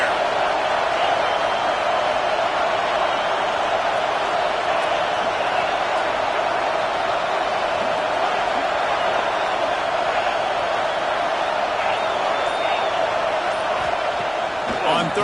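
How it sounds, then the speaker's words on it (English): Stadium crowd in College Football 26 with the home fans roaring to pin the opponent deep in their own end; a dense, steady wash of cheering and noise holds throughout, with commentary-like voices over it. "this crowd trying to help keep them there"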